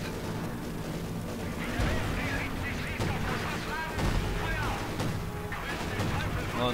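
A Panzer IV tank fires in the WWII strategy game Company of Heroes 2, with heavy cannon booms and gunfire rumbling through continuous battle noise while voices talk over it.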